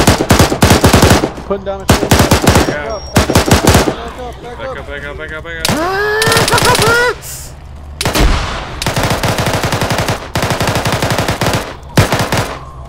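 Gunfire in the military shooter Arma 3: loud, close bursts of rapid automatic fire in several long strings separated by short pauses, with someone briefly speaking amid the shooting.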